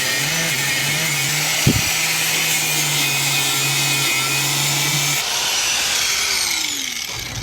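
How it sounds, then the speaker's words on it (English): An angle grinder running steadily at close range during a window repair on a Rockwood fifth-wheel RV, a continuous harsh whine with a sharp knock near the two-second mark and a brief easing off toward the end. "I think Dave's on the grinder now."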